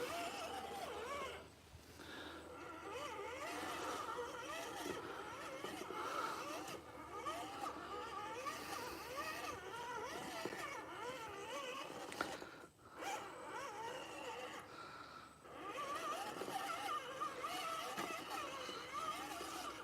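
A Trail Rider 570 RC crawler with Endura all-metal axles and a two-speed transmission running in low range makes a steady close electric whine that rises and falls in pitch throughout, with one brief dip near the end.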